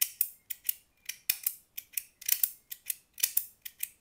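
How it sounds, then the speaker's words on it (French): A 3D-printed PETG fidget button is clicked repeatedly, giving sharp, crisp plastic snaps in an irregular rhythm, close and alone with no talk. "je vous présente le bouton Fidget"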